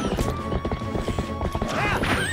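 Galloping horse hooves from Zelda: Twilight Princess pound in a quick, loud clip-clop rhythm. A whinny cuts in near the end, over a game music tone.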